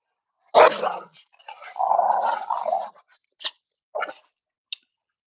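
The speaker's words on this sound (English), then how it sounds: "Can you show us that puppy, please? They're just going crazy. There's two of them." Two puppies bark and growl in short, excited bursts, a loud yelp followed by a longer growling stretch and several sharp, separate barks, close by with no talk.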